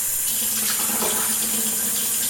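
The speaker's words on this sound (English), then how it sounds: "I'm going to rinse this out" Running tap water pours steadily into a sink while an item from making strawberry almond milk is rinsed, a constant close splashing hiss with no voices.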